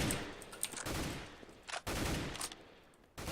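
Short controlled bursts of rifle fire in CS:GO, fired across the map: a few clipped volleys of rapid shots separated by brief pauses, sharp and fairly close, with no talking.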